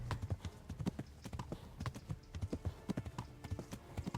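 A horse gallops in Kingdom Come: Deliverance, its hooves drumming in a quick, steady rhythm of close, punchy thuds throughout, moderately quiet overall.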